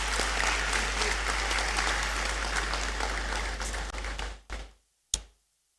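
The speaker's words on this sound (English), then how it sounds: "I believe Ms. Forson deserves a big round of applause." A crowd at a University of Ghana graduation ceremony in the Great Hall gives Ms. Forson a big round of applause, dense and sustained before cutting off abruptly, followed by a single sharp thump.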